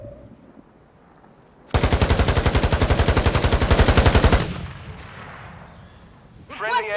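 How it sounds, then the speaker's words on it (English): Rapid, heavy automatic gunfire with booming impacts from an airstrike in an online shooter game, a dense loud burst lasting a few seconds and then fading, with a brief voice near the end. "Friendly airstrike in the AO."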